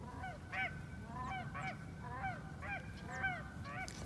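Geese honk repeatedly overhead while flying above ponds during a waterfowl hunt, a chorus of overlapping calls in a steady rhythm, moderately distant and fairly soft against low outdoor rumble.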